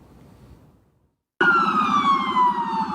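Police escort cars and an ambulance pass with wailing sirens that burst in suddenly after near silence, loud and close, with a falling siren tone sweeping over a rumbling engine.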